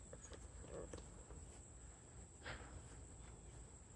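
Grasshoppers chirp faintly outdoors over a low hum from a nearby air conditioner, with scattered soft footsteps and light clicks as someone walks past.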